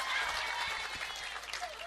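Audience at an Indonesian religious lecture clapping in a brief, dense burst of applause, fairly faint and distant.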